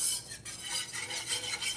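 Sausage gravy stirred in a pan, a soft repeated scraping swish of a utensil through thick liquid with light clinks, close and quiet.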